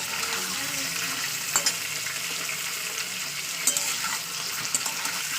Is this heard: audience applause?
no